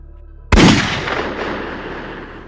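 A single loud, sharp gunshot bursts out of a quiet background and rings off in a long, fading echo.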